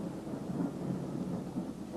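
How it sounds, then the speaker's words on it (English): Thunderstorm with low rolling thunder and a steady wash of rain, heard from inside a cold, damp cell, a continuous rumble with no speech. "A storm."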